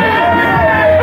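A crowd of fans at a drag race makes a dense, continuous babble of cheering and chatter, loud and close throughout the short moment.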